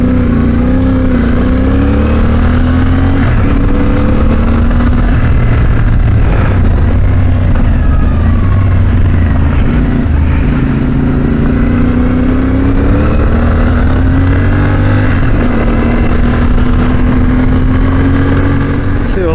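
A CFMoto 450MT adventure motorcycle with its standard exhaust being ridden off-road, the engine droning loudly and steadily with shifting rev pitches and gear changes, heard up close from the rider's position.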